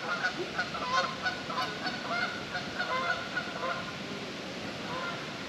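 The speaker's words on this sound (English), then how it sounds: "Sounds of nature, geese flying over." Geese honking repeatedly as they fly over an outdoor state park picnic area near DeSoto Falls, Fort Payne, Alabama, a steady chorus of overlapping calls at moderate distance against open-air background.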